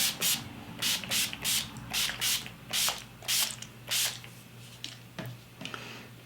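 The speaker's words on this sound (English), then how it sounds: "I'm just gonna mist my face with my Urban Decay All Nighter Makeup Setting Spray." Several short hissing sprays of Urban Decay All Nighter makeup setting spray misted on a face, close up, in quick bursts separated by brief pauses, with a faint background hum.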